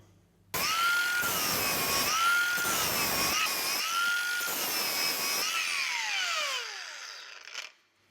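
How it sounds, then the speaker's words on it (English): A power grinder cuts off overlong protruding dowels and throws sparks, a loud whining drone starting abruptly, rising and dipping in pitch as it bites, then winding down at the end, close by with no talk. "That's what happens when you grind things."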